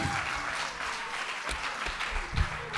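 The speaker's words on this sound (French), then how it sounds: "Sous vos applaudissements" A studio audience applauds at the close of a youth TV news presentation contest broadcast. Steady clapping runs throughout, with a few heavier low thumps standing out near the end.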